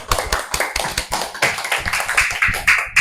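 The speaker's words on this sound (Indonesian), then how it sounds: "Tepuk tangan." Classroom students give group 1 a round of brisk, close clapping, with many hands striking in quick overlapping bursts throughout.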